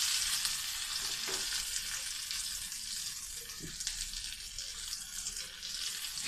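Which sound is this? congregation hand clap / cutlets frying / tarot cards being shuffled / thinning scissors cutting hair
cutlets frying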